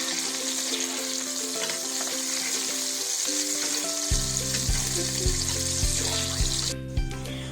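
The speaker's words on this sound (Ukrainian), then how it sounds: "тепер обжарюємо їх з двох сторін" Burger patties sizzle and crackle in a hot pan, a steady frying hiss, while bright tonal notes play throughout.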